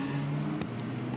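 A red Ferrari GT race car at the Nürburgring drives down toward turn 1 in a pack of about twenty cars, its engine a steady, moderately distant roar with a brief passing swell.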